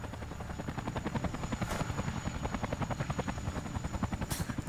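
A helicopter comes in to land in the video game Call of Duty Black Ops 2, its rotor beating in a steady rapid thump that holds loud throughout, with two brief bright bursts cutting in over it.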